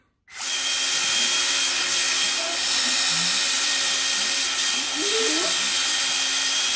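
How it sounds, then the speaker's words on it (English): A power drill whines steadily and loudly throughout in an engine workshop, a constant high-pitched motor hum with faint background sounds beneath it. "Yeah, that's the drill."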